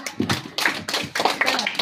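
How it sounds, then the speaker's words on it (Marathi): A group of people clapping together at a school quiz competition, several loud rhythmic bursts of applause in quick succession, close by. "सर्वांसाठी नियमानुसार जोरदार चालू टाळ्या आपण. वाजवा."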